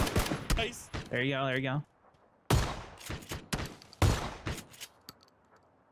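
Shotgun blasts ring out in the battle royale game PlayerUnknown's Battlegrounds, several sharp loud reports spaced a second or so apart, mixed with players talking over voice chat.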